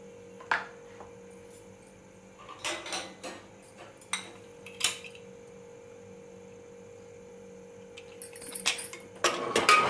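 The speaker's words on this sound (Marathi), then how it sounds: "कुकर बंद करते।" A pressure cooker lid is closed over dal fry with peas and turmeric: a few sharp metallic clanks and rattles, then a louder scraping clatter at the end, over a steady low electrical hum, with no talking.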